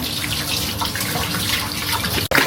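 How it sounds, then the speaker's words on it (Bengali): Running water rushes steadily from a tap as freshly cut fish is rinsed, a loud, close, continuous splash that cuts off briefly near the end, with no talking. "এই যে আমাদের মাছ কাটা শেষ, এখন হচ্ছে ধোয়া হবে।"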